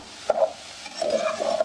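Chopped capsicum, cabbage and green chili get stir-fried over a high flame, giving a short burst of scraping and sizzling from the pan with a couple of stirring strokes.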